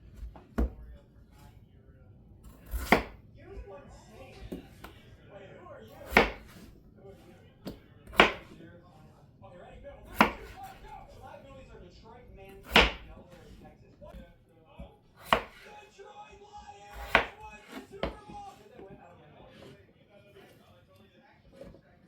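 Potatoes being cut into big chunks for a beef stew, a knife striking a board in about a dozen sharp, evenly spaced chops, close and clear, while someone talks between the cuts.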